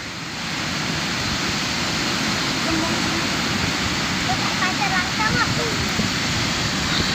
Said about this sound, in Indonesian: Ombaknya gede ya ini ya?